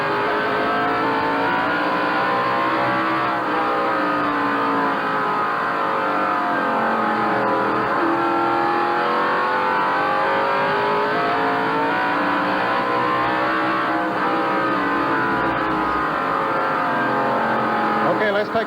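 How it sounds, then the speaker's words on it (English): NASCAR Winston Cup stock car engine heard from inside the car on a 1988 lap of the 5/8-mile North Wilkesboro track, a loud, continuous V8 roar rising and falling in pitch through corners and straights, with a commentator talking over it. "we'll once again go inside the Dale Jarrett car and take you for a few laps around North Wilkesboro"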